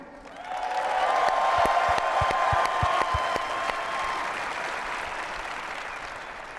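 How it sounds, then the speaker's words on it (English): Applause at a Phoenix Suns press conference for James Jones swells quickly and holds steady, a moderately loud wash of clapping with a few sharp close claps standing out. "Give a round of applause to Mr. James Jones"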